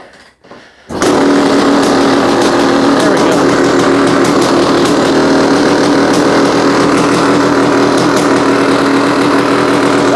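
A Honda CR500 two-stroke motorcycle engine fitted with a cheap eBay carburetor fires up after a moment of quiet and then idles loudly and close, a steady raspy burble held high and unchanging.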